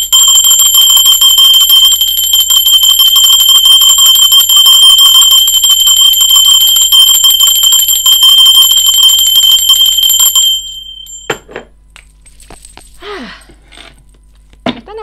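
A bright metallic bell rings loud and continuous for about ten seconds, then stops abruptly, leaving a few faint, scattered sounds.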